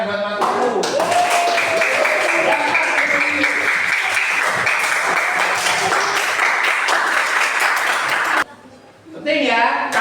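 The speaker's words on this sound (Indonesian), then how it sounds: "Tepuk tangan buat mantuku." Children in a fourth-grade class clap for a classmate, a loud sustained round of applause with a voice and tones at the start, cutting off abruptly before voices resume.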